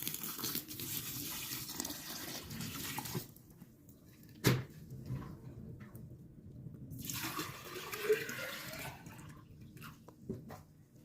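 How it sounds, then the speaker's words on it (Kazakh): Tap water pours steadily into a container of cabbage, stops briefly after a clunk, then flows again with soft splashing and a few knocks. "Үстінен краннан су әкеліп құямыз."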